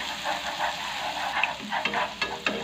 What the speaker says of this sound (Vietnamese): mình sẽ phi thơm cái hành tỏi khô này lên